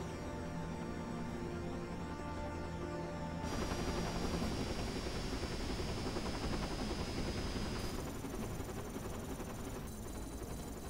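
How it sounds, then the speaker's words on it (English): Helicopter in the video game Dirge of Cerberus, a steady loud rotor-and-engine roar mixed with game noise, growing denser partway through and holding for the full stretch, with no talk. "Oh good, we're fighting a helicopter."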